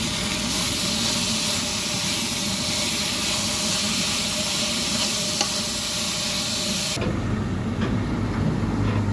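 Radish greens stirred and sautéed with onions in a pan, giving a steady, loud sizzle with scraping stirs that runs continuously, then abruptly drops to a duller, quieter frying hiss near the end.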